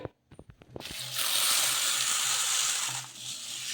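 Moong dal lentils being rinsed in a bowl of water: a few quick clicks and taps at first, then a close, steady rushing and swishing of water and grains that eases off toward the end.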